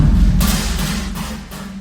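A controlled LPG gas explosion set off inside a house, heard as a loud, deep boom with rumbling low end that rolls on for nearly two seconds, with a few sharper bursts of noise on top.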